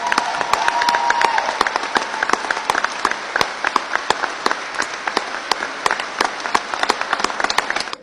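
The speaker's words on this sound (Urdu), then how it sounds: "آپ میرے ساتھ 1 منٹ اپنی ذات اور ملک اور یوتھ کے لیے تالیاں بجا سکتے ہیں" An audience at a public speech claps steadily for a long stretch, many hands producing a dense, crackling applause that stays loud and even, with a faint murmur of voices early on.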